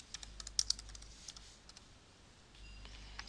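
Typing on a computer keyboard while naming an item in a game-making program, a faint, quick run of light key clicks followed by a short quieter pause and a few more taps.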